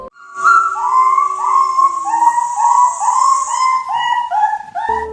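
Several six-month-old dire wolf pups, about three feet tall, howl together in long, wavering, overlapping tones, loud and close, rising and falling for several seconds.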